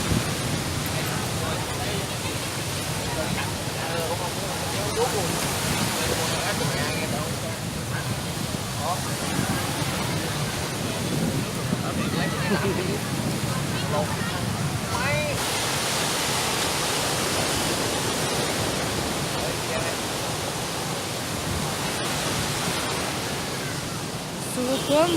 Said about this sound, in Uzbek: To'lqinlari juda ham baland.